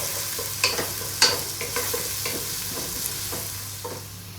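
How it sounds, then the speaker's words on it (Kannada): Onions being softened in a pan for Mangalorean prawn sukka, a steady frying crackle with a few sharp stirring scrapes and clinks, close and alone without any talk. "ಮೊದಲು ನಾವು ನೀರುಳ್ಳಿ ಹಾಕ್ತಾ ಇದ್ದೇನೆ ನೀರುಳ್ಳಿ ಸ್ವಲ್ಪ ಸಾಫ್ಟ್ ಆದಂತ ಫ್ರೈ ಮಾಡಬೇಕು"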